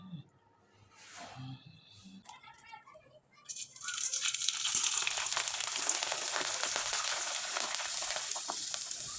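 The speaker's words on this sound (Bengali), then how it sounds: "এবার আমি কয়েকটা পিঠা তেলে ভেজে দেখিয়ে দিচ্ছি।" Sago pitha dropped into hot oil to fry, a few faint clinks and handling noises at first, then a bright, steady sizzle that swells and stays loud to the end.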